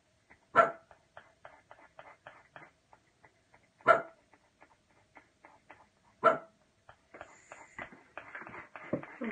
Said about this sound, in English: Decided to bark now.